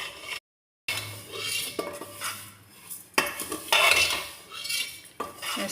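Vermicelli being stirred and roasted over low heat in a pan, with a metal spoon scraping and clinking against the pan in uneven strokes and a faint sizzle underneath, close by, with no talk.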